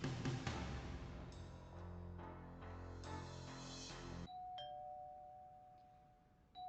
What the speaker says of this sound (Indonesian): ada yang menekan bel dan buka pintu